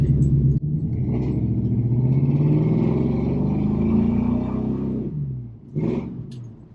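A 1986 Chevrolet C10 pickup with an LS engine swap drives loud and close, its deep rumble swelling as it revs and accelerates, easing off briefly near the end before a short rev picks up again.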